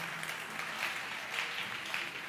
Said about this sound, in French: Betana na maboko makasi. Acclamez fortement en honneur de Jésus.